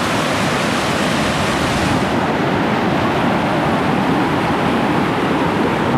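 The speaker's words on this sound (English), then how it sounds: "We got some pretty waterfalls over here in Oneonta Creek" Waterfalls on Oneonta Creek in winter, a loud, continuous broadband rush of falling water with no pauses, close and steady throughout.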